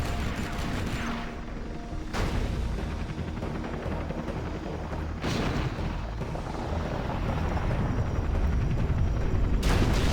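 Airstrike explosions in the video game Command and Conquer: Generals, a dense run of loud booms and rumbling blasts, with sharp bursts near two and five seconds and again near the end, all over continuous battle noise.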